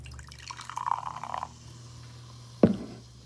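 New Coke pours into a glass with a bubbly, gurgling splash for about a second, then after a pause a single sharp clunk as the can or glass is set down.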